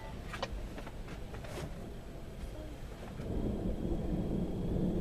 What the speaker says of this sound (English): Yeah, that thunder is serious stuff too.